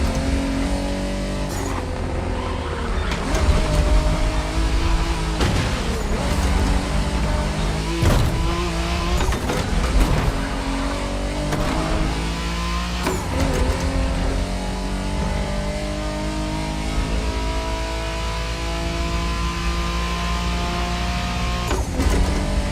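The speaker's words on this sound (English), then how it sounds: "Good thing you're driving the 1969 Camaro Z28." A 1969 Camaro Z28 in The Crew Motorfest runs with a loud, steady engine drone, its pitch climbing and dropping through gear changes with sharp shift breaks over about twenty seconds.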